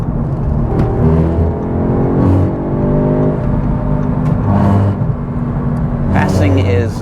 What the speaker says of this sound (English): I love that exhaust noise.